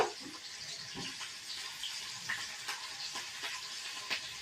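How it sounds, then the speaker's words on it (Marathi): Green chilli and onion frying in hot, spluttering oil in a pan, a continuous close sizzle with scattered pops and crackles throughout, no voices. "तडतड झाल्याच्या नंतर टाकणार आहे हिरवी मिरची, कांदा"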